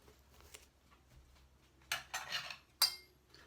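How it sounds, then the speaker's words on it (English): Glass jars for bottling homemade preserves clink and rattle in a kitchen, a few sharp bright chinks in two quick clusters after a quiet start. "So I'm now going to get the jars out and bottle it up."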